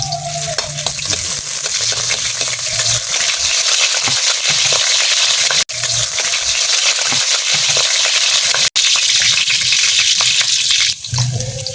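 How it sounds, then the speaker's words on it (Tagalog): Ginger sizzling loudly in a hot wok as monggo gisado with vegetables gets started, a dense continuous frying hiss with two sharp clicks and stir scrapes near the end. "Lunod na to ang luya."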